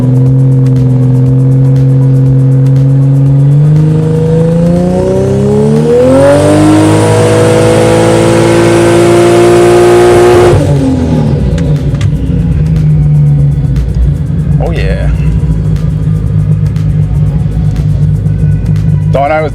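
Drag-racing engine of a no-prep build chasing 1000 hp, run on a dyno: loud rumbling idle climbs into a screaming full-throttle pull for several seconds, then drops back to a heavy lumpy idle, with talk faintly underneath.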